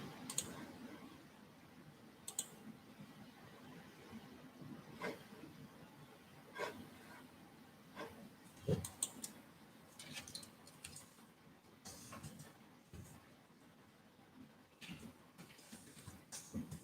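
Quiet, sparse clicks of a computer mouse, irregular single taps spread across a hushed room with faint background noise.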